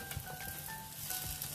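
Carrot and cabbage sizzle in a hot wok for village-style nasi goreng belacan, a moderate, even frying hiss with occasional stirring scrapes and no voices.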